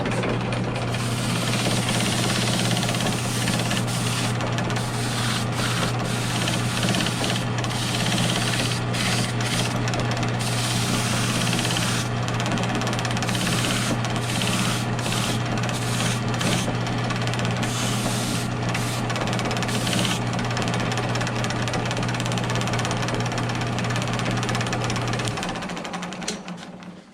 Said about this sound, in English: that's what's called a welt brush, and the reason I use it to deglue things is because it's a kind of a bristle brush